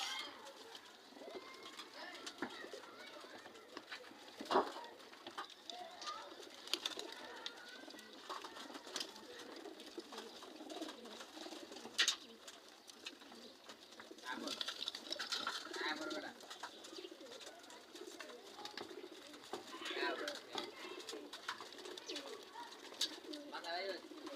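Pigeons coo softly and intermittently from a neighbour's rooftop loft, faint and somewhat distant beneath people talking nearby.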